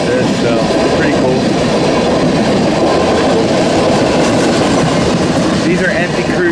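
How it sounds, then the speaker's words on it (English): An empty BNSF crew train rolls north through Lyons, Nebraska, a steady loud rumble of railcars with a continuous clatter filling the whole stretch. "These are empty crew trains headed north through city, Nebraska"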